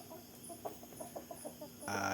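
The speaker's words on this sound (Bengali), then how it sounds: "কিছু মুরগি আছে এখানে।" Tiger-breed chickens on a small farm, a flock of hens and roosters, give a short run of soft, fairly distant clucks before a steadier background noise takes over.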